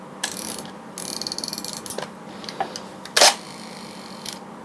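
Clicks and ratcheting slides of a film camera's rear-mounted shutter being worked by hand at slow speed, with several soft mechanical snaps and one sharp louder click near the end, close up and without talk.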